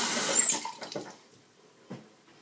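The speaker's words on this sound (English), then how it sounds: "I'm just rinsing them underwater here right now." Hands rinsed under a running tap, a short rush of water that is loudest at first and then thins to faint trickles and splashes, with no talking.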